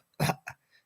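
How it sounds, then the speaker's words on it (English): A man coughs during a live-streamed music show, two short close bursts, the second weaker, followed by a faint trailing sound. "He's had another cough."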